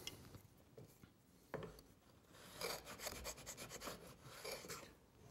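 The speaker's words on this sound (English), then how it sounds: "I'm just smoothing off the bottom of the cut" A Lie-Nielsen router plane smooths the bottom of a cut in wood with soft rasping scrapes, quiet at first, then a run of quick, rhythmic close strokes.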